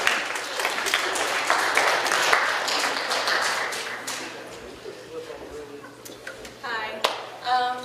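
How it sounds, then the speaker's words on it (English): Applause from a gallery audience at an artist talk, clapping loud at first then thinning and fading out, with a few scattered claps and a voice near the end. "So let's give them a round of applause."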